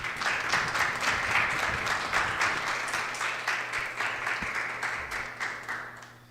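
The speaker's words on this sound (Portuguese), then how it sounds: "Aplauda o Senhor Jesus." A church congregation applauds together, a steady wash of clapping with a rhythmic pulse, moderately loud and gradually fading toward the end, with a low hum underneath and no clear talking.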